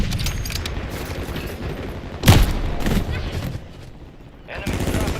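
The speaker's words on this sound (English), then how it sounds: "I'm taking fire!" Video game gunfire crackles in the background, with one sharp, loud shot or impact standing out midway among ongoing combat noise.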